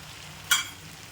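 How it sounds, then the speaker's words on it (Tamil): A single quick stir through turmeric and chili powder sizzling in oil gives a brief bright rustle, then low frying noise carries on softly in the background. "பச்சை வாசனை போகிற மாதிரி வறுத்துக்கணும்"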